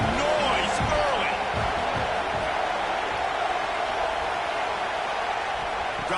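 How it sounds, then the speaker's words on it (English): Stadium crowd at a football game gives a steady, loud roar of broad noise that never lets up, with a few sharp thumps and voices mixed in. "This crowd bringing the energy and noise early"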